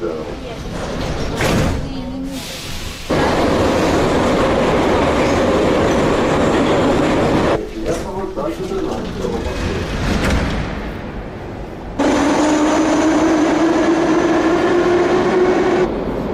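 A metro train runs through an underground station, its loud rumble and wheel clatter rising as cars pass, ending with a sustained, climbing wheel squeal. Talk is heard in the clip.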